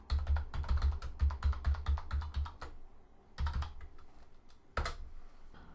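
Password keys tapped on a computer keyboard in quick, steady bursts of clicky strokes, with short pauses and two brief final flurries, close and fairly loud.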